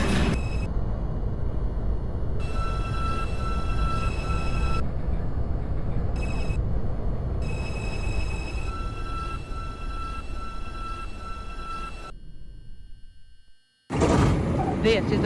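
An NYC Subway R142 train on the 5 line, running in snow in the OpenBVE simulator: a continuous low rumble of the moving train with a steady high electrical whine, a brief dropout near the end, then the sound resumes abruptly.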